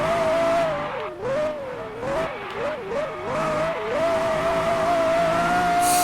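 A Pagani Zonda racing at night in a video game, its engine whine wavering up and down as the car spins out and lands off a jump, close and continuous with no talking.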